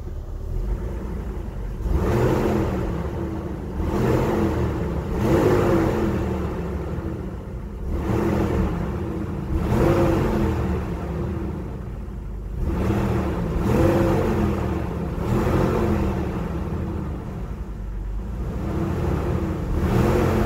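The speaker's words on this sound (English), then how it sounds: "Not a bad sounding Jeep." A 2002 Jeep Wrangler Apex engine running through its exhaust, a steady mid-pitched idle rumble rising in several repeated revs and falling back, close by with no talk.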